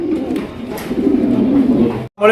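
Domestic pigeons at a pigeon seller's, including Nun pigeons, coo in a low steady throb close by, continuing for about two seconds before a brief silence.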